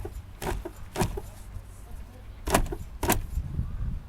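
A car boot slammed shut over a load of garden pots and compost bags, with two pairs of sharp thuds and rattles, each pair a beat apart, amid faint outdoor background noise.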